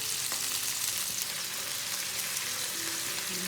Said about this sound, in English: to get a picture of all that sizzling action right now